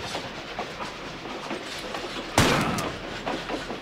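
Train rolling along a desert railroad in the game Tomb Raider: The Last Revelation, a steady rumbling clatter throughout with one sharp loud bang midway, no talking.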